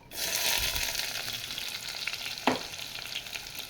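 Sliced onions dropped into hot oil with curry leaves for a mushroom theeyal: a loud sizzling hiss rising quickly and holding steady, with a sharp clack from a utensil partway through, close and without talk.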